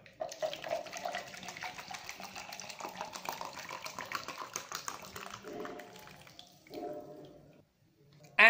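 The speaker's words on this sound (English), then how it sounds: "Firstly, we will add hot water or boiled water around 500 ml to our empty beaker." Hot water, about 500 ml, pouring into an empty beaker as a steady splashing stream for several seconds, then tapering off into short gurgles before stopping.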